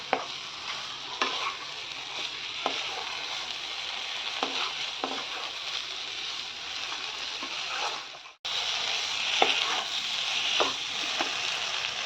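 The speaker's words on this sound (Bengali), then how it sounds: "সময় নিয়ে কষাতে হবে।" Bengali egg curry masala sautéing in a pan, a steady sizzle with repeated scraping stirs of a spatula, close and fairly quiet, a brief break midway before the frying resumes.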